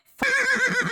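A horse in a character-design comedy gives a loud, close whinny lasting about a second, with a wavering, pulsing pitch and no talk over it.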